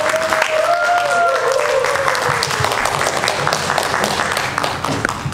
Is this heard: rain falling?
no